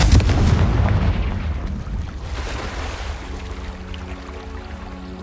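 A spell blast from Confringo, the fire curse in Hogwarts Legacy, booms loudly at the start, then rolls off into a long rumbling decay under a lighter steady game soundscape.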